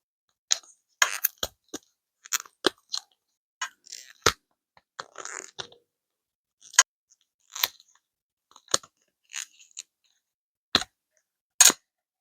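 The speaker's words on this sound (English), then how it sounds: "we can have a little resin mold ASMR" Resin zodiac letter keychain molds being handled, giving a sparse series of close, crisp clicks, taps and soft plastic crinkles with quiet gaps between them, no voices.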